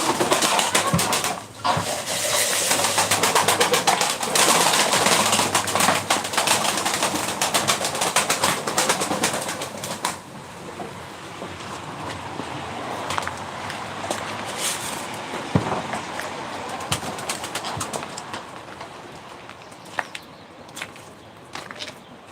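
Game pigeons coo at a live bird auction in Ankara, soft throaty calls blending with a busy, close mix of fluttering, shuffling and clatter that stays loud for about ten seconds, then eases to a quieter, sparser bed.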